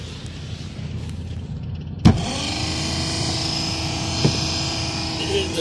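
The faulty blower fan of a 1998 Honda Civic starts with a sharp click, then settles into a steady whirring hum with a sustained tonal whine, heard close up inside the car.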